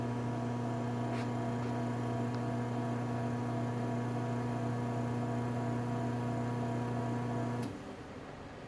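A LiftMaster 3585 garage door opener motor runs with a steady loud electric hum and drone, cutting off abruptly near the end to leave quieter background noise.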